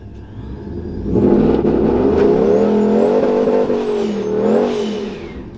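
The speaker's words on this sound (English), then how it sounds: "Go over here and do a little burnout." A TorqStorm-supercharged fourth-generation RAM truck doing a burnout, engine revving up hard into a loud sustained roar with a rising supercharger whine, holding high before easing slightly, close and dominant.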